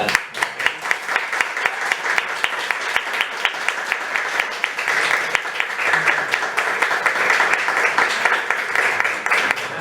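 An audience at a conference breaks into steady, dense applause that holds for about ten seconds, with scattered sharper claps standing out in a hall.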